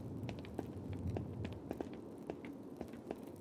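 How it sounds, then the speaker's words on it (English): Soft footsteps in the game Pentiment, a string of evenly paced light steps at a walking rhythm, fairly close and quiet over a low ambient hum. "I still hear footsteps."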